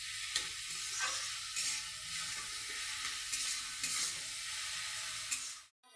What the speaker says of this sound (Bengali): দিয়ে এটাকে ভালো করে নাড়াবো।